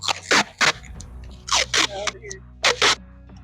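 Packing tape pulled off a roll in several quick, loud ripping strips while plant cuttings are packed for shipping, with short pauses between pulls and faint background sounds.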